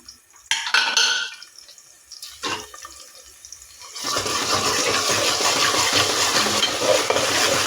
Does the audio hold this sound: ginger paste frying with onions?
yes